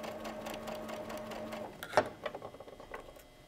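A sewing machine runs steadily while stitching a curved quilt seam, its even motor hum and rapid needle chatter holding for nearly two seconds before slowing into a few separate clicks and light handling sounds.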